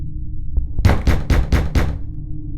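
Five quick, firm knocks strike a front door in a tight, even sequence, loud and close, after a couple of faint taps over a quiet low hum.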